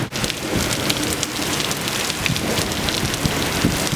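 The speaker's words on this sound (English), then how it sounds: "Oh, that's hail." Heavy hail and rain pour down steadily during a thunderstorm with near-constant thunder, a dense, continuous hiss of impacts with scattered sharper clicks throughout.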